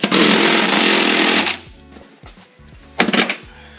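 An impact wrench hammers out a 14mm heat shield bolt on a Honda Type R exhaust, a loud rattling burst lasting over a second, followed by quieter clinks and a second short burst.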